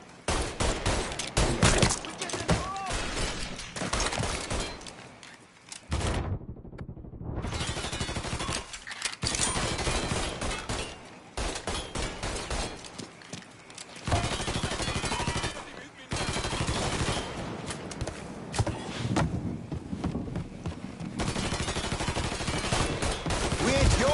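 Sustained gunfire fills a Mafia 3 video game battle, with dense rapid bursts of automatic shots and fusillades, loud and nearly continuous with brief lulls, while a player talks over it.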